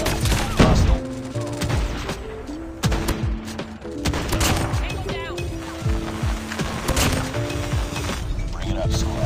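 A hostile sentry gun rattles out rapid, repeated bursts in a military shooter, loud and continuous over the whole stretch, with radio-style callouts spoken over the shooting.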